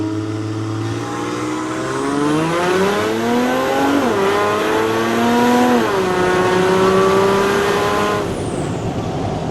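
A Land Rover with an OM606 diesel engine accelerates steadily under load, its engine note climbing through the revs in a smooth, close, continuous drone with no talk.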